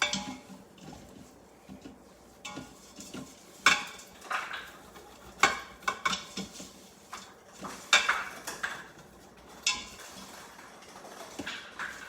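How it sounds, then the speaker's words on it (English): A spoon stirs an apple dumpling dessert in a Quick Cooker pot, giving intermittent metallic clinks and scrapes against the pot, uneven and close, with quiet gaps between strokes. "let me stir this around just a bit"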